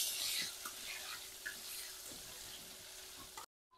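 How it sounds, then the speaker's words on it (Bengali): Potatoes frying in oil left over from frying eggs, a steady soft sizzle with light stirring scrapes and a few small knocks, faint and close, ending abruptly. "এই তেলের মধ্যে এবার আলু ভেজে নেব।"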